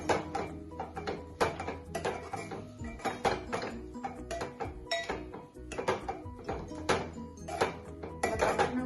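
A spoon scrapes and clinks against a metal pan over and over, stirring grated coconut and jaggery for laddu. The strokes are close and steady, with no talking.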